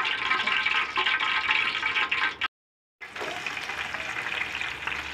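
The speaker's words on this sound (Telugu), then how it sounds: "ఆయిల్ హీట్ ఎక్కిన తర్వాత ఆనియన్స్, పచ్చిమిర్చి వేసుకొని వేపుకోవాలి." Onions and green chillies frying in hot oil in a kadai, a steady loud sizzle that runs continuously, breaks off briefly for about half a second, then resumes, with no talking.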